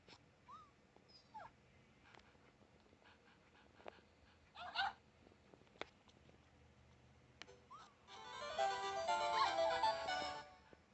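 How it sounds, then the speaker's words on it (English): A Nintendogs dog in the video game yips, whimpers and barks in short scattered bursts, faint and thin, followed by a louder stretch of electronic game sound near the end. "this is Haley Duff's dog, Bentley."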